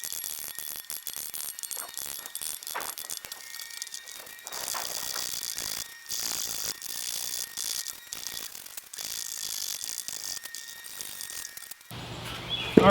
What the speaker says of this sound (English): I'm going to use this long flat gouge and this scorp to finish the bottom